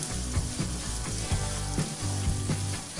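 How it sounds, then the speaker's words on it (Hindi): Semolina roasts in a pan over a medium flame with a continuous close sizzle and faint crackle, broken by soft rhythmic scraping as it is stirred. "मैं इसमें सूजी ऐड कर दूंगी और अब हम इसे मीडियम फ्लेम पे भूनेंगे"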